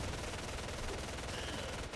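Rapid machine gun fire in a real-time strategy game, MG squads rushing an opponent's expansion; dense continuous rattling bursts fill the whole stretch at steady loudness with no talking.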